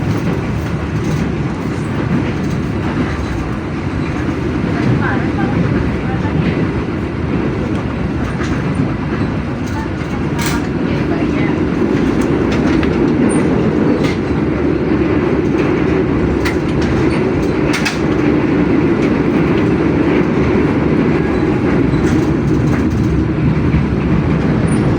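Steady train rumble with rhythmic clickety-clack of wheels on rail joints, heard from inside an Indonesian passenger train with airplane-style windows, continuous and loud throughout with no talk.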